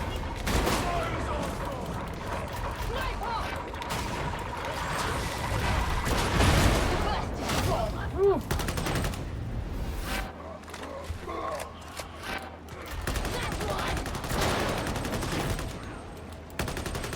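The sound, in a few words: gunfire in the video game Warhammer 40,000: Darktide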